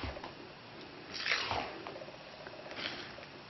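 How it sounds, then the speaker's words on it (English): Thick dark chocolate mud cake batter is stirred in a bowl, producing soft wet squelching and sloshing swirls that rise and fall, quiet and close, with no talking. "so I'm gonna keep stirring this until all the mixtures are all incorporated"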